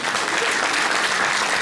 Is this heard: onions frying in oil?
no